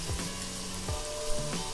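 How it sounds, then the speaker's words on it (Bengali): Spices frying in a pan for mutton curry, a steady close sizzle with a few low scraping stirs, no talking. "আমরা মশলা একটু ভেজে নিয়েছি"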